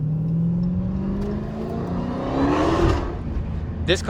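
A loud Dodge Hellcat muscle car engine revs and roars steadily on wet roads, its pitch rising and swelling before easing off, with a short burst of noise at the end.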